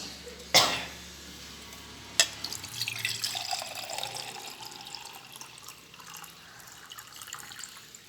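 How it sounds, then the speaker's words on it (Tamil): Water pours steadily into a beaker, a gentle trickling flow after two sharp knocks, fairly quiet and close. "ஒரு முக்கால் பாக அளவுக்கு தண்ணி ஊற்றிக்கிறேன்"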